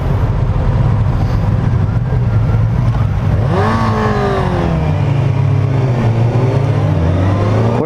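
A 2019 Kawasaki ZX6R motorcycle accelerates hard, its loud engine note rising and climbing through quick-shifter gear changes with rapid pitch steps, heard close over constant wind roar.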